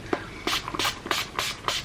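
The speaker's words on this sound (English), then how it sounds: "I'm going to spritz my face with a bit of Urban Decay." Urban Decay setting spray spritzed onto the face, about five short, close hissing puffs in a quick, fairly even rhythm.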